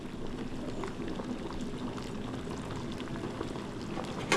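Sambar bubbles at a steady boil in a pot, a soft continuous simmer of popping bubbles heard close up and alone, with a brief louder clatter right at the end.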